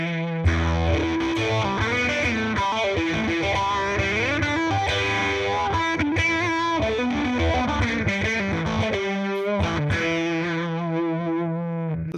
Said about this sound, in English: Let's turn on some phaser and some fuzz.